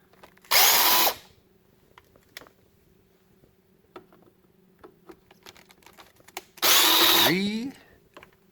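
A power screwdriver backs out Phillips screws from the rear hatch trim of a Mercedes W124 wagon, giving two short, loud whirring bursts up close, the second ending with a rising pitch, separated by quiet clicks and handling noises.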